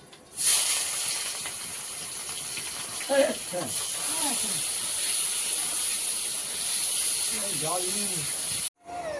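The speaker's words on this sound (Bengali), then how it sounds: "তাহলে একটা ফ্লেভার আসবে সুন্দর দিয়ে দিচ্ছি পেঁয়াজ কুচি" A steady broadband hiss of chopped onions frying in hot oil with a little ghee runs throughout, with a few brief voices and clinks breaking through.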